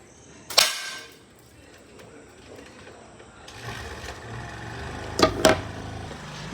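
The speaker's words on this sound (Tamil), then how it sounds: "கோலி குண்டு தெரிச்சிருச்சு காய்ஸ்." A slingshot fires a glass marble that shatters on impact: one sharp crack early, then two close cracks near the end, over a faint steady background hum.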